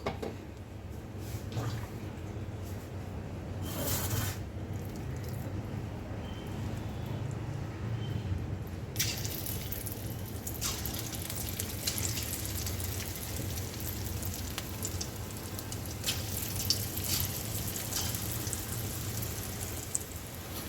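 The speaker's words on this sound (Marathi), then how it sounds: "मी आता दुसरा बॅच तळून घेते" Moong dal pakodas deep frying in oil over low to medium gas, a steady dense sizzle and bubbling that holds evenly throughout, close and fairly loud, with occasional clinks and no one talking.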